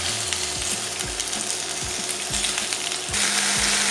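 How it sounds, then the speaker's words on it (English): Onions sizzle and fry steadily in hot oil for a sweet potato and carrot soup, a continuous close crackle with soft scraping and clinking as they are tossed around the pan. "we're going to just toss these around, get them coated in the oil, and we're just going to let these fry off for a little while"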